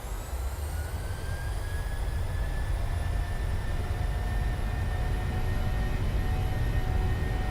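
Simulated Boeing 737-600 jet engines spool up to takeoff thrust in Microsoft Flight Simulator, a loud steady roar with rising whine tones held throughout, no talking.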